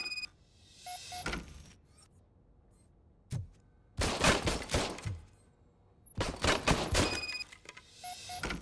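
An old service pistol is test-fired in Robocop: Rogue City with sharp, loud bursts of rapid shots. The shots come in clustered volleys separated by quiet gaps, mixed with mechanical clicks.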